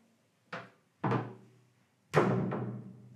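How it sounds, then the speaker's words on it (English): Three solid thumps of a glass bathroom door in a hotel room being opened and shut nearby, each with a short hollow ring, separated by quiet pauses. "And this is a glass door"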